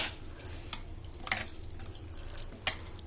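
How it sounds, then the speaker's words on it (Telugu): Flattened rice (poha) being rinsed in water in a kitchen, with soft drips, trickles and light splashes coming and going at a low, close-up level. "చూడండి ఇట్లా కడుక్కోవాలి దుమ్ము మంచిగా అటుకులు ఫ్రెష్గా మంచిగా కడుక్కోవాలి"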